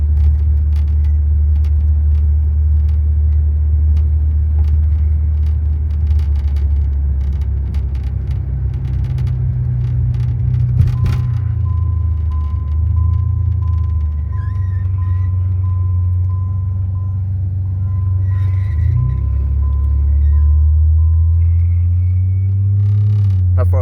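A 1990 Eagle Premier car driving, with a steady low engine and road rumble throughout, a shift in engine note near the middle and a faint tone running underneath, with no talking.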